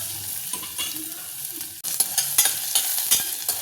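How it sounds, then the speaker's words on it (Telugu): Chopped onions and green chillies hit hot oil in a pan with a loud, bright sizzle, then crackle steadily with a few stirring scrapes; no voices. "ఇప్పుడు మనం కోసి పెట్టుకున్న ఉల్లిపాయ ముక్కలు, పచ్చిమిరపకాయ ముక్కలు వేసుకోవాలి"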